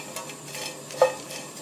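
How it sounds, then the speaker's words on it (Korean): Dried anchovies dry-roasting in a frying pan without oil give off faint, scattered crackles and light ticks, with one sharper click partway through, close and quiet with no talking. "이렇게 냄새가 싹 올라오고 후라이팬에서 탁탁탁탁 소리가 들리죠?"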